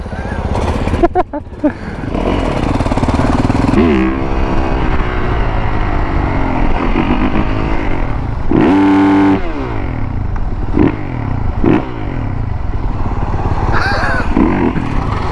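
A motorcycle in the video game GTA revs and roars loudly and steadily throughout, with engine surges rising and falling while people talk over it.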